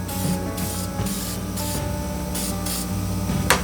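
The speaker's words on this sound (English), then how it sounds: "So I'm just gonna spray it just a little bit." Short hissing bursts of an aerosol spray can, several quick light sprays in a row, close and fairly loud.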